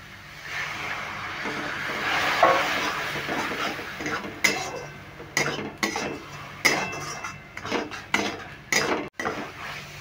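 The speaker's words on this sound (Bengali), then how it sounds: "এবার দেখো মশলাটা একটু কষিয়ে নিচে আর তেলও ছাড়ছে" Spice masala with Kashmiri chili powder cooks in a pan under a low background sizzle, while a metal spoon scrapes and knocks against it in a run of irregular clinks and taps that grows busier toward the end.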